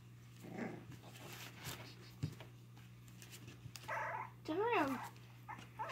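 A Cocker Spaniel puppy makes small growls and whimpering yips, faint and intermittent, with people talking softly around it.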